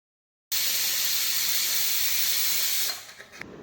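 A pressure cooker lets off a loud sustained hiss of escaping steam while a dish is cooking, starting abruptly, holding steady, then tapering off with a few sputters.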